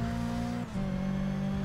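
A racing car in Forza Motorsport 6 Apex drones steadily at high revs, with a brief dip as it shifts before the engine note settles again, loud and close throughout.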